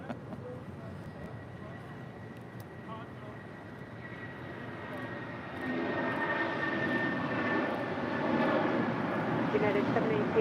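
Airliner takes off from runway 25 right at LAX, its engine roar building from a distant rumble to a louder, sustained thrust, while a voice talks over it.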